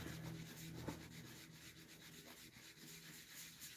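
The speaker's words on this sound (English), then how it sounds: "So I'm doing this feather sanding or tapered sanding." Steady feather sanding of a wood edge by hand, a continuous abrasive rubbing with gentle back-and-forth strokes, close and moderately quiet.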